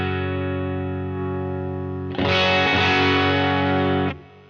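Electric guitar played through a UAFX Enigmatic '82 Overdrive Special pedal: a sustained, loud overdriven chord rings steadily, then a brighter, fuller distorted strum swells for about two seconds before cutting off abruptly, with no talking.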